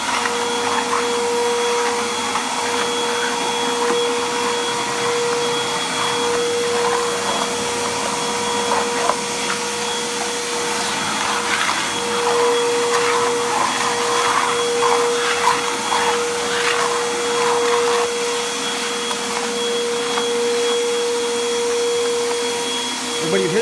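Shop vac with a clean filter and bags sucking dust from cracks in concrete, a loud steady motor whine with a constant high tone and rough airflow rustle running unbroken throughout.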